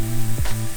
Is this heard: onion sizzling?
yes